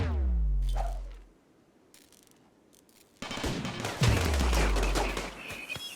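Gunfire in the Rimworld colony game, with a loud burst of shots, a quiet lull, then renewed heavy firing with ringing impacts and mechanical clatter, all without talk.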